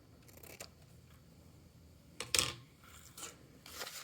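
Scissors snip paper at an angle while making a small gift box, giving a few quiet, close cuts with one sharper snip in the middle and faint handling noise between.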